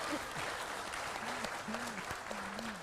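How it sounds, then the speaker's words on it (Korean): Audience applauding at a public broadcast event in Jeonju, continuous dense clapping from a crowd, with a voice speaking over it. "박수 한번 주시죠."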